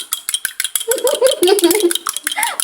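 An egg is beaten briskly in a bowl for an egg soup, giving a quick run of close, bright utensil clinks against the bowl while a voice talks partway through.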